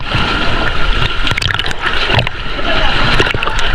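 Strong sea waves surge around a sea cave during island hopping, sloshing and splashing water in continuous churning bursts close by, with faint voices now and then.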